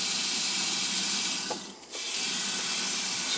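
A repaired kitchen faucet with a hose sprayer runs water in a steady hissing rush, briefly dipping for a moment mid-flow before resuming strongly.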